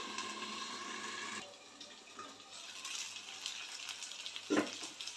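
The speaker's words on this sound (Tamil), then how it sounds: "இதை சுட சுட மீன் வந்து அழகாக வறுத்து எடுத்துட்டோம்" Fish fries in oil in a covered pan for a restaurant-style fish fry, giving a steady close sizzle and hiss that softens after a moment, with a light clatter near the end and no speech.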